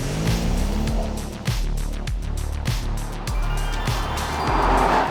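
A 2022 Mercedes-AMG C43 on the move, its engine and exhaust a steady, fairly subdued drone heard from inside the cabin, with road noise and a faint rise and fall as it drives.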